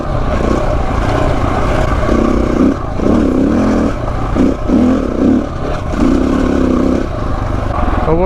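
A KTM 690 Enduro single-cylinder motorcycle rides an off-road track, its engine loud and close, revving up and easing off in repeated bursts as the throttle is worked.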